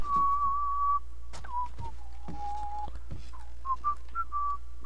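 A character in the video game Thief whistles a meandering tune in sustained notes with short pauses, heard alone against faint background hum and occasional soft clicks.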